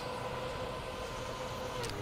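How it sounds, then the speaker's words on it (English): A car engine in a racing video game drones steadily throughout, a constant even hum during an icy run, with no other distinct sounds. "I can still hear my own car engine."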